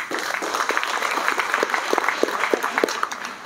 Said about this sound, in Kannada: ಲೋಕಮಾನ್ಯ ತಿಲಕರಿಗೆ ಒಂದು ಜೋರಾದ ಚಪ್ಪಾಳೆ ಬರಲಿ